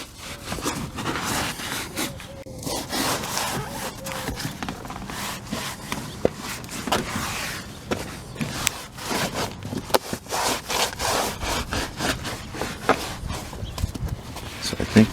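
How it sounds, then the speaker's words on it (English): Scrubby side of a sponge scrubbing a greasy film off a floor: close, rhythmic rasping strokes in a steady back-and-forth pattern that keeps going. "I can use the scrubby side to try to scrub this greasy film stuff off of here"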